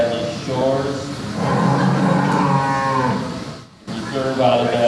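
A Holstein dairy cow at a county fair dairy cattle show gives two loud, drawn-out moos close by, broken by a short pause, with crowd and announcer chatter faintly underneath.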